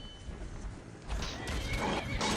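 A horse whinnies over a busy Skyrim game soundscape, with thudding hooves and scuffling around it.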